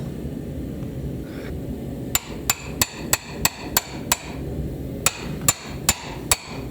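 Hammer forging a blade, drawing out and tapering the walls of a slot before inserting edge steel: about a dozen sharp metallic strikes ring out close and loud in a steady rhythm, a pause, then a few more blows, over low workshop hum.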